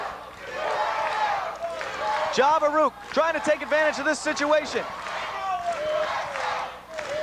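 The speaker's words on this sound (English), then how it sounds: "you hear the soundstage 23 thumping and bumping with the chant of USA" A wrestling crowd at soundstage 23 in the International Wrestling Federation chants rhythmically in loud, repeated two-beat bursts, with a commentator talking over the crowd noise before and after.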